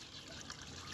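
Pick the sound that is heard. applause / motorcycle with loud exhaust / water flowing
water flowing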